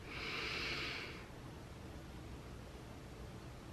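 One deep breath drawn in during a breathing exercise, a breathy hiss lasting about a second that then fades into quiet background noise, close and soft.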